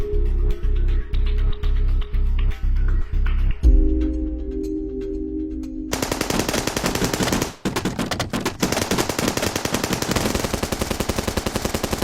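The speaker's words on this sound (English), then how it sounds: "the gunshots awoke the armed groups in the area." Machine gun fire in a dramatized reenactment of the SAF 44 operation: spaced, regular bursts of shots give way to a dense, continuous, loud rattle of automatic gunfire.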